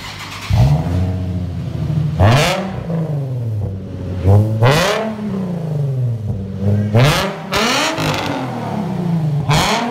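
A 2007 Nissan 350Z on its stock catalytic converters is revved hard about five times, each sharp rise in engine pitch falling back to a rumbling idle in between, close and loud.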